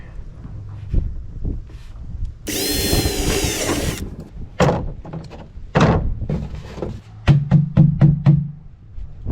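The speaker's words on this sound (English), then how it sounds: "So we're going to drill it and put a vent" A power drill whirs in one sustained burst, drilling a vent hole in a gas can, followed by several knocks and clunks, then a quick run of short rhythmic taps.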